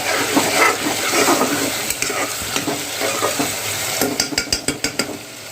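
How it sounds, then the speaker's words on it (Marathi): Vegetables are stirred in a pan with coarsely ground peanut powder and carrot, giving a steady scraping, sizzling fry with a run of quick spoon-against-pan clinks near the end, close and alone. "छान मिक्स करून घ्या."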